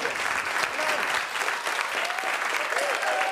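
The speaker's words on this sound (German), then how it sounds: "Einen ganz großen Applaus" A comedy club audience applauds a stand-up comedian at a German comedy show, loud dense clapping that stays full and sustained throughout, with a few faint whoops rising from the crowd.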